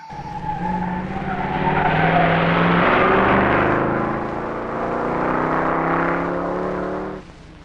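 The 1964 Sunbeam Tiger rally car at the Geneva Rally makes a loud, close engine roar that swells and holds, with tire squeal and skidding mixed in, before cutting off sharply at the end.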